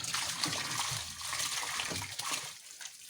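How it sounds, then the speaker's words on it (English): About 40 liters of liquid blood meal poured into a batch of pig feed on a farm, a steady close splashing and sloshing pour that thins out toward the end. "So we have our blood meal going in now."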